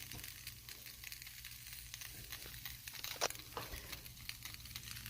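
Sandwich filling sizzles steadily in a hot pan, a close, even crackle with scattered sharper pops and no voices over it.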